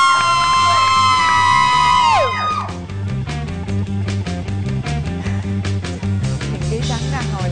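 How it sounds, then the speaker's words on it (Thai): A crowd of fans screaming and shrieking with excitement at high pitch for a couple of seconds at a market event in Siam Paragon, then music with a steady beat takes over. "อย่าแปลกใจเสียงกรี๊ดที่ได้ยินนั้นคือเด็กของเสี่ยวนี้"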